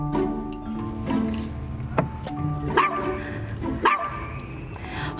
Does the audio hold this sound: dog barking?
yes